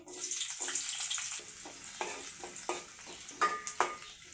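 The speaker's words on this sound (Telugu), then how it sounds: "మిగిలిన నూనెలనే ఉల్లిగడ్డలు వేసిన" Onions frying in leftover oil in a pan with a steady close sizzle and several sharp stirring scrapes toward the end.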